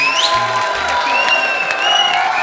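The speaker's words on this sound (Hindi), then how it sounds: "जोरदार ताली।" A studio audience on a televised comedy show claps loudly and steadily, with continuous applause filling the whole moment and some faint tonal sounds running underneath.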